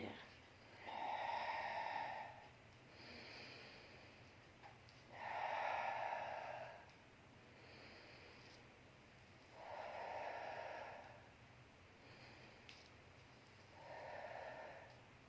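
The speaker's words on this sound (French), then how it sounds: "Je souffle et j'inspire." Slow, steady breaths during a Pilates exercise, with long audible exhales and inhales repeating in a calm rhythm about every four seconds, close and fairly soft.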